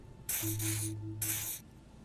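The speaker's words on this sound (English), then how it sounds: "He douses you with the odd-smelling spray, a double helping as you present your other armpit" Two hissing bursts of pressurized pheromone spray from a canister in the video game Disco Elysium, a long spray then a shorter second one, close and fairly loud over a low steady hum.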